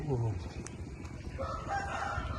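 A rooster of a pure breed crows briefly near the start at a roadside village food shop, followed by steady background bustle and murmur.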